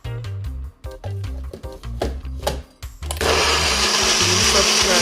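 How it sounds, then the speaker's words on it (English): A bullet blender whirs into a loud, steady grind of scallions, ginger and oil after some short clattering bursts, then holds a continuous high roar to the end. "Now I'm gonna blend it"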